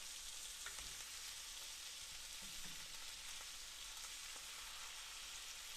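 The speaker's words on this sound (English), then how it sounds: "I'm gonna let these brown up and saute at the same time" Red onions sauté and brown in a pan with a faint, even hiss and a light crackle, plus a few soft stirring taps, all fairly quiet and with no talking.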